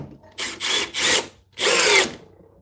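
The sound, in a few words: Milwaukee compact drill driving a screw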